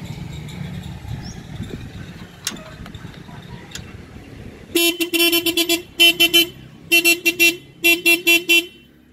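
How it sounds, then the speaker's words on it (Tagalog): A Toyota Vios car horn under repair testing blares in close, loud bursts: one longer stuttering blast, then several groups of short repeated honks, after faint clicks and handling noises. "Pag tumunog yan, ibig sabihin buhay yung busina."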